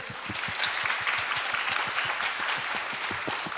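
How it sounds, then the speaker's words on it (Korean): An audience at a regional innovation platform forum gives warm applause as a presenter takes the stage, a continuous wash of many hands clapping at moderate volume with a few distinct nearby claps. "여러분, 뜨거운 박수로 함께 해주십시오."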